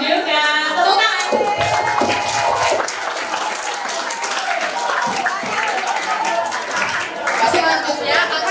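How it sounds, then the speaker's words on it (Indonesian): An audience at a school theater performance breaks into loud applause that swells and continues for several seconds, with cheers and crowd chatter mixed in. "Tepuk tangan."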